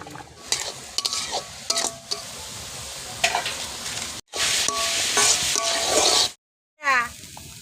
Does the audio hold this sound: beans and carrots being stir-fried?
yes